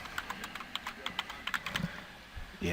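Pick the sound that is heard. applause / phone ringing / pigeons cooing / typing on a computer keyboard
typing on a computer keyboard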